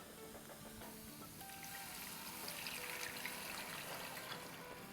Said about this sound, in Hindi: चलें अब इसमें हम दूध डालेंगे, जो कि दूध है हमारा 1 लीटर यानी 4 कप।